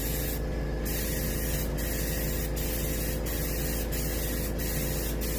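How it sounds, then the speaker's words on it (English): A small airbrush hisses steadily as it sprays paint onto a striped bass skin mount, giving a close, continuous spray noise broken by regular brief pulses. "It takes a while with a small airbrush."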